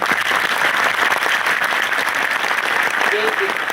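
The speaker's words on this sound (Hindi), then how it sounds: "जोरदार तालियां हो जाए" An audience at a goal-setting seminar breaks into loud, dense applause, a continuous wash of many hands clapping at close range throughout, with a faint voice briefly audible near the end.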